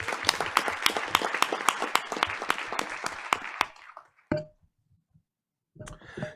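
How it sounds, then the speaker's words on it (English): A board of education meeting audience claps in a short round, the crisp individual claps rhythmic and close before cutting off abruptly, followed by brief quiet and faint stirring. "Let's give Linda Savage a round of applause."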